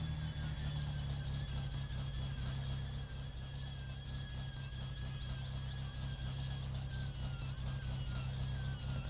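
A car engine in the driving game My Summer Car runs and overheats, giving a steady loud droning hum with a thin high whine and squeal on top, continuous and close, with no talking.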